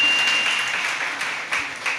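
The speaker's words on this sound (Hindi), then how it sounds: "आप तो कहते हैं ताली तो बजाओ" Applause from an audience at a Jain religious discourse, a dense burst of clapping that starts full and slowly thins and fades over two seconds.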